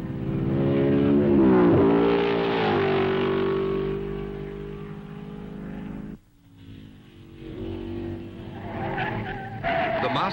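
1955 racing cars at the Belgian Grand Prix on the tree-lined Spa circuit, their engines roaring loudly with pitch climbing and falling as they pass; the sound drops briefly before a second car's engine note rises again.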